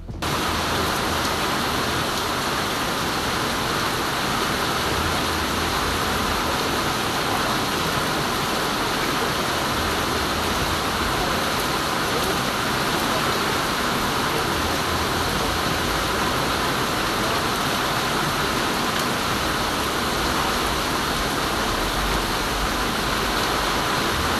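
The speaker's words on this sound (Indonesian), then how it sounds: "salah satu dari mereka memutuskan untuk merekam keadaan hujan" Heavy rain pouring in front of a house, a dense, steady broadband roar that fills the whole stretch without pause, loud and constant, with no voices.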